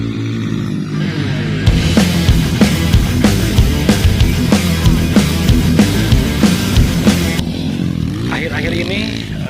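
A Apollo RXF 150 motocross motorcycle engine drones loudly and close on a motocross track, with rhythmic pulsing revs as it rides along, then eases off near the end; a voice talks over it.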